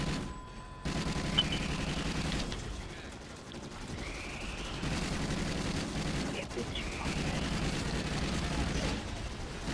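Repeated bursts of gunfire in the video game Destiny during a Nightfall mission, rattling in waves at moderate loudness amid game effects, with brief pauses between volleys.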